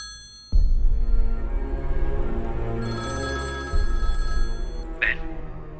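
Telephone ringing as a call is placed, a bright electronic ringing tone that starts abruptly, sustains for a few seconds, restarts after a short break, then ends with a higher chime.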